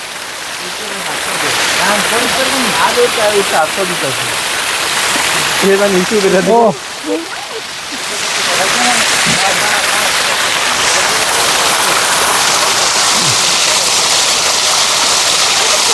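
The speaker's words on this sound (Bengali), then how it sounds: "এই যে আমি এখন ঝর্নার খুব কাছাকাছি চলে আসছি" Clear water pours down a waterfall at Tanguar Haor in a continuous near rush, while a person speaks over the first half before the water carries on alone.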